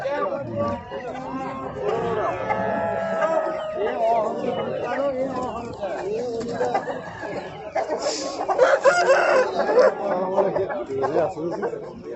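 Roosters crow amid the constant murmur of a busy outdoor rooster market in Shahrikhan, Uzbekistan, with fowl clucking and a dog barking nearby while many people talk over them throughout.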